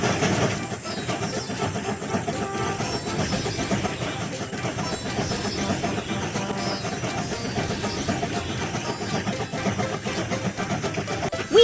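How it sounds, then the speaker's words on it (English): A toy train engine starts up in a children's play set, giving a steady, loud mechanical engine drone that runs without a break. "slide bar to start the engine."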